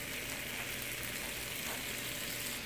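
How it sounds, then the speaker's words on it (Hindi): Tomatoes frying on high heat in a chicken karahi, giving a steady, dense sizzle that holds evenly throughout with no talking. "अब हम इनको अच्छे तरीके से भूनेंगे ताकि जो टमाटर है हमारे ये बिल्कुल मैच हो जाए।"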